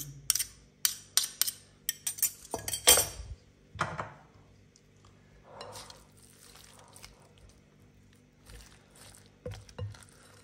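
A spoon stirring food in a dish: a quick run of close, bright clinks and taps against the container, then quieter, wetter swishing and occasional soft knocks as the mixing slows; nobody speaks.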